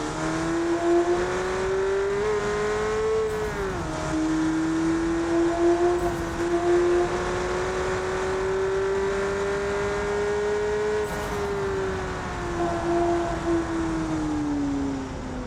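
A light naturally aspirated car in BeamNG Drive accelerates hard, its engine note climbing steadily through the gears with brief dips at each shift, loud and continuous with no voices.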